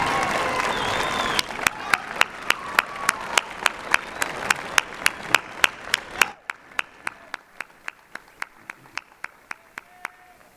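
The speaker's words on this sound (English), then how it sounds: "give them a rousing applause and some cheers for all the support, help, and love that they have given you" At a Tarleton fall commencement ceremony, a standing crowd of graduates, family and friends breaks into warm applause that thins out into scattered, sharp individual claps over several seconds.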